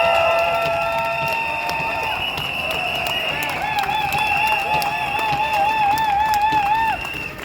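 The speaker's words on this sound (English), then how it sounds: "Let's make it big, let's make it loud, and give yourselves another huge round of applause." A rally crowd at a UCU union event in Durham cheers, whoops and claps loudly, with whistles and shouts rising over sustained applause.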